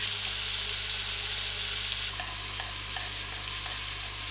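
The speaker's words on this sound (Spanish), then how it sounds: "echamos 3 cucharadas más de aceite y sofreímos las verduras a fuego medio durante 10 minutos" Vegetables sauté in oil over medium heat for a traditional beef stew, a dense, loud, continuous sizzle close by, with a few soft stirring knocks in the latter half and no talking.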